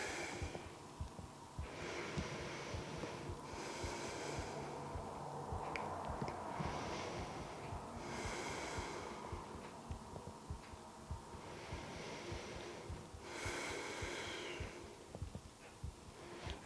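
Slow, audible breaths taken during a seated yoga twist, with long inhales and exhales rising and falling in a regular cycle over a faint background hum.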